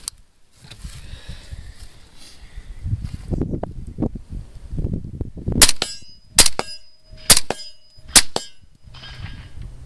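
Rifle gunshots ring out in a string of sharp, loud reports, each followed by a brief ringing tail, after a stretch of rustling and handling noise.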